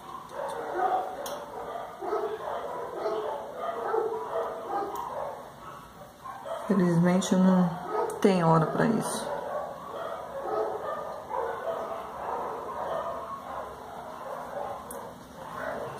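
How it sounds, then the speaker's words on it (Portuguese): Many street dogs from neighbouring streets bark and yip together at a distance outside a house, a burst of overlapping barks rising mid-clip while someone talks over the steady chorus. "esse monte de cachorro é cachorro da rua de baixo, cachorro da rua do lado e cachorro daqui de frente de casa"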